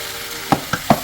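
Mushrooms being sautéed in a pan for a vegetable stir fry give a soft sizzle, broken by three quick stirring clicks in close succession. No one speaks.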